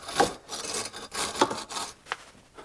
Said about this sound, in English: let me sharpen the other side of this blade